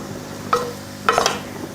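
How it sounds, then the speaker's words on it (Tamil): Raw banana being stirred with chili powder in a pan, with two short scraping strokes of a spoon against the pan over a low, steady sizzle, close and brief. "மிளகாத்தூள் போட்டு கலந்து விட்டாச்சு."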